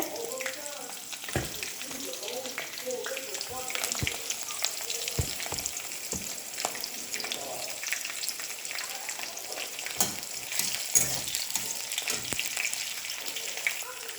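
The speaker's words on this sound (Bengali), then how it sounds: "এবার অনিয়ন দেওয়ার পরে অনিয়নটা ভাজা হবে।" Steady, crackling sizzle of onion frying in a wok, with occasional scraping stirs and clicks; a faint voice appears briefly.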